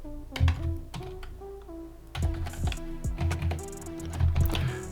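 Quick, uneven clacking of computer keyboard keys as code is typed, close and crisp, with short pauses between bursts and background music underneath.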